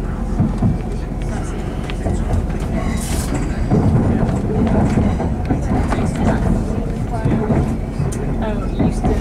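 A passenger train travelling towards Manchester Victoria station gives a steady, loud rumble of wheels and carriage noise throughout, with people talking in the background.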